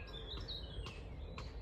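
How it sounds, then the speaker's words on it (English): Birds chirp faintly at an outdoor allotment garden plot, with a few short, high tweets over quiet ambient noise and no talking. "listen to the birds."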